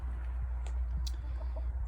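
Chickens in a backyard chicken area give a few soft, scattered clucks and short calls over a steady low background hum outdoors.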